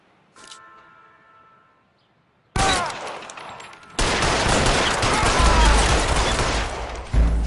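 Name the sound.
gunshots in the video game L.A. Noire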